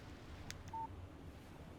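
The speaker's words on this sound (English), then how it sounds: "Text message from Barry." A short electronic alert tone sounds once from a phone receiving a text message in Alan Wake Remastered, a quiet in-game chime over a low ambient background, with a couple of soft clicks just before it.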